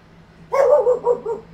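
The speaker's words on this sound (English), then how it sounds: "Apparently the dog agrees with you. He's now screaming at me." A dog named Max gives a short, close bout of three or four vocal barks, almost whining, after a moment of near silence with a faint steady hum underneath.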